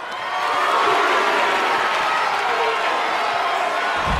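A large WWE NXT arena crowd at a Halloween Havoc event holds a steady, loud, broad roar of cheering and noise, continuous from start to finish.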